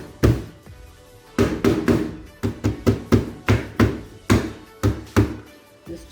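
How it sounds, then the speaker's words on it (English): A dozen or so heavy, dull thuds land in an irregular rhythm, close up, as ginger is pounded and crushed on a hard surface. "I'm going to crush my ginger a little bit."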